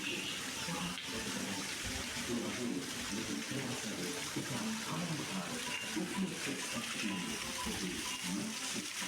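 Water falls and splashes continuously at a scenic outing spot, a dense steady rushing with faint background voices underneath.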